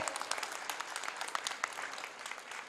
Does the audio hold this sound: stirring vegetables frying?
no